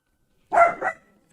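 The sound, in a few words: dog barking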